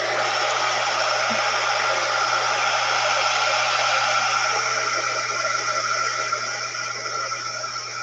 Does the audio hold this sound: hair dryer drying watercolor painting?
yes